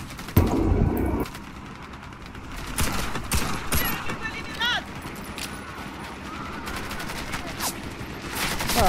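Gunfire from the online shooter Warface, with bursts and single shots crackling through a busy mix of game noise and excited voices that keep talking throughout.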